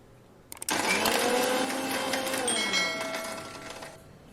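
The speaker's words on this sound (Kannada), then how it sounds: "ಇದನ್ನು ನಾನೀಗ ಮಿಕ್ಸಿ ಮಾಡ್ತಾಯಿದ್ದೀನಿ." A kitchen mixer grinder blends a thick sapota (chikoo) milkshake with milk, starting abruptly with a loud steady whir that holds for several seconds, then gradually eases toward the end.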